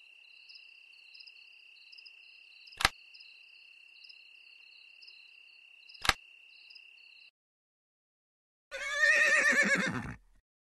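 A steady insect-like chirp with two sharp clicks, then after a brief silence a loud, close pony whinny that falls in pitch.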